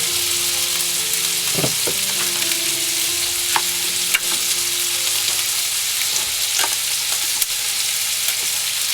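Food frying in a pan, a continuous close sizzle broken by a few soft knocks and clinks of stirring.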